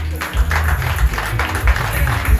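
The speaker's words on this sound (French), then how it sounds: "sous vos applaudissements" Audience applause greeting a candidate introduced at a political list presentation in Pointe-à-Pitre, a steady wash of clapping from a crowd lasting the whole stretch.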